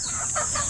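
A chicken at a Philippine rooster farm gives two quick clucking calls over a steady background drone, near and clear, with no voices.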